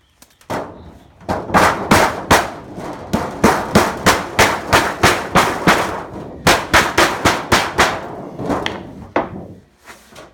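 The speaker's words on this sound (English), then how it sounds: "I'm gonna take my mallet and just start hammering right along through here" Steady, rapid metallic hammering as a mallet strikes metal flashing on a beehive outer cover, a long run of sharp evenly spaced blows with brief pauses, loud and close.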